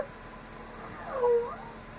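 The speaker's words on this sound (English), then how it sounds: "Oh, Frankie, you're such a good kitty cat" A pet cat gives a single drawn-out meow that rises and falls in the middle of a short indoor stretch, fairly close, with low room noise around it and no talking.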